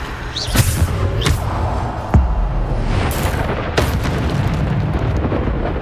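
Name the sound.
Bombarda explosion spell in video game Hogwarts Legacy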